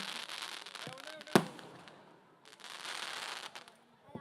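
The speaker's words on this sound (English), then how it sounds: "I'll wait for the fireworks to get over." Fireworks go off at a school annual day celebration: one sharp loud bang, then long stretches of dense crackling bursts at a moderate distance, with faint crowd noise underneath.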